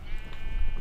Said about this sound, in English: I've got a sheep running around.